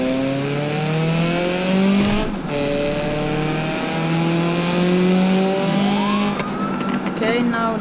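Car engine in BeamNG.drive revving and shifting through gears, its pitch climbing and dropping in steady loud sweeps, with a brief dip near two seconds and a higher whine rising late, under occasional speech.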